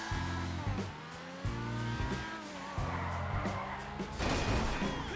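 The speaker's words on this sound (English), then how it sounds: "The car just doesn't want to seem to slide at all. Or if it does, it just flips out and crashes." Progen GP1 podium car in a racing video game, engine revving in repeated surges with tire squeal and skidding, and a harsh crash-like burst near the end, loud and continuous.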